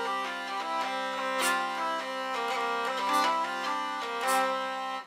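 A folk tune variation in the mixolydian mode, a major scale with a flattened seventh, played as a steady melodic line over a sustained drone-like bass, moderately loud and alone without talk.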